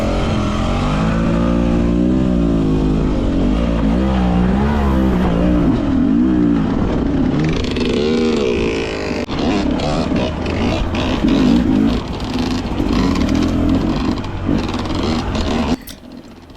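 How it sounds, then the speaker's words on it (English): A 2023 Beta 300 RR Race Edition two-stroke dirt bike chugging at very low RPM over rocky trail, a loud close uneven throbbing engine note with small rises in revs and rattles, no talking. "Listen how this 300 just chugs through here."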